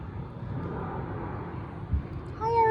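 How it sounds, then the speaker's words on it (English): A low, distant rumble of an aeroplane flying overhead at a zoo drones steadily, growing slightly louder toward the end, with faint chirps creeping in. "Or is that another aeroplane?"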